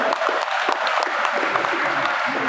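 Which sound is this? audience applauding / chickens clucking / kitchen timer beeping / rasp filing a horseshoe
audience applauding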